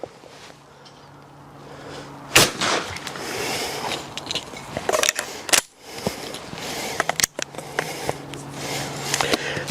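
Sharp, loud shotgun blasts from a Browning gun at a clay target shoot, several abrupt reports spaced apart outdoors, with wind and handling noise between them.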